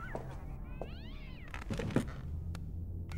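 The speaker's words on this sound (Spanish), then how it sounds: "Los gatos dejan de maullar." Cats meow in a quiet room: a few drawn-out, rising and falling mews of moderate loudness, with some soft rustles and thumps around them and no speech.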